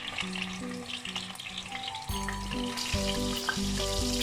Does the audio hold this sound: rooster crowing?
no